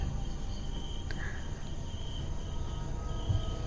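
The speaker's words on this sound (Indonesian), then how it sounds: "Cuma suara jangkrik dari arah kebun." Crickets chirp from a garden at night in a thin, steady high-pitched trill that continues without a break, backed by a low, even background hum.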